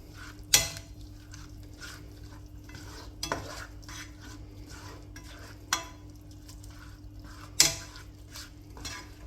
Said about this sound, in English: give it a good stir, and just let that cook off